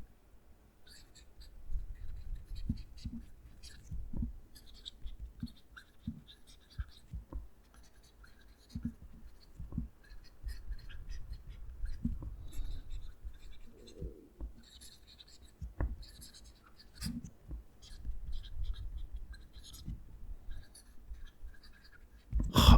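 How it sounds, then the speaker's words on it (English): A Faber-Castell Hexo fountain pen scratches softly across paper in short, irregular strokes and taps, quiet and close-miked with light whispery friction between pauses. "Let's move the mic and do the writing test."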